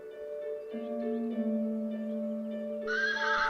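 A foal of a rare, endangered horse breed neighing after losing sight of its mother, a long wavering whinny that rises into a shrill, loud call at the end.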